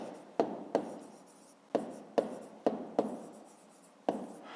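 A pen writes on paper in short strokes, each starting with a crisp tap and then a soft scratchy drag, close and quiet, about eight strokes in an irregular rhythm.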